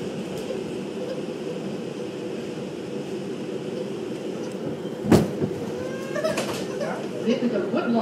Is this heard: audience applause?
no